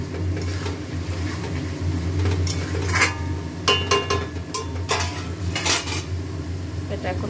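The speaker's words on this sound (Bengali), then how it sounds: "এটা এখন খুব ভালো করে কষা হবে।" Mutton, pressure-cooked first, is stir-fried (kosha) in oil in a kadai. A metal spatula clanks and scrapes against the pan several times in irregular bursts over a low, steady background hum, with no talking.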